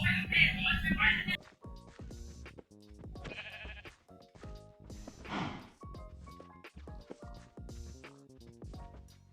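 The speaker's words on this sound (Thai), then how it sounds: "เรามีแกะมาด้วย ก็ถือว่าเป็นอะไรที่ดี" Sheep bleat in several loud, wavering calls, one near and strong at the start and more scattered through the rest, with a wet, squishy background and no talk.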